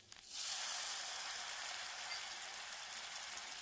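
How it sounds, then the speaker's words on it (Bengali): Ground tomato hits hot oil with onions in a pan and bursts into a loud, steady sizzle that starts abruptly and holds as a broad, continuous hiss. "এবারে পেঁয়াজের সঙ্গে টমেটোটা ভালোভাবে মানে কিছুক্ষণ কষাবো"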